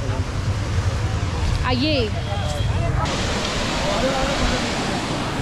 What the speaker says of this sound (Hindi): तो गाइस हम लोग पहुंच चुके हैं द्रंग वाटरफॉल पे।